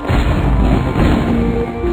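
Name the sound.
fireworks in the video game Club Penguin Rewritten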